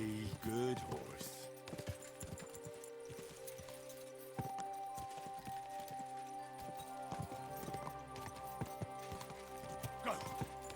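Horse hooves clip-clop in the video game Kingdom Come: Deliverance II, a quiet, uneven stream of hoof falls over soft in-game ambience.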